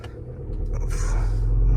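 Skoda Kodiaq VRS from 2020, a 240 hp seven-seat SUV, idling with a steady low engine rumble that builds slightly over under two seconds, heard close up with no voices.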